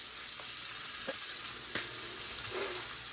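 Duck breasts stand on their sides in a frying pan, sizzling in a steady hiss, close and moderately loud, with a few faint clinks and pops breaking through.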